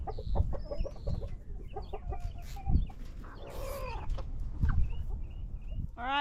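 Clucking and squawking chicken calls from a rooster, fairly close, with a few bursty outbursts over a busy farmyard background; no talking.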